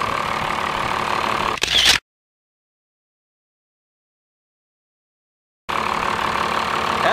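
A 1995 Dodge 3500 dually with a Cummins diesel, P-pump and five-speed manual, idles steadily with a dense, continuous rumble, cutting out into silence for several seconds before the same even idle resumes.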